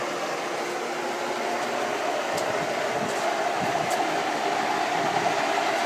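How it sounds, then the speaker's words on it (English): A steady, continuous mechanical whir with a broad rushing hiss runs unbroken throughout, a swimming pool pump with a D.E. filter running just after priming. "It's a good system, the pump primes right away."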